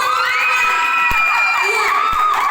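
A choir competition audience in Balige cheers and shouts, with children's voices whooping over a steady crowd roar that stays loud throughout, joined by a couple of sharp knocks.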